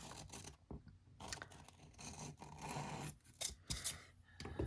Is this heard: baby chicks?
no